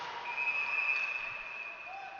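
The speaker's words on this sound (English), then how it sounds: "And now a whistle blows," A referee's whistle at a youth ice hockey game between the Kalkaska Battlers and Waterford Sharks sounds as one long, thin, moderately faint blast over the noise of the arena crowd.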